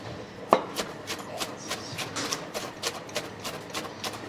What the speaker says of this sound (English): There's absolutely no better way to make a salad than with a giant machete.